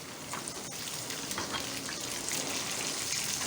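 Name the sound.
pouring a little water into the pan with spices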